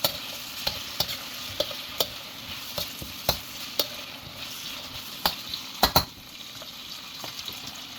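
Vegetables for caldereta are stirred in a sizzling pan, with a spoon scraping and clacking against it at irregular intervals over a steady fry, heard up close with no talking.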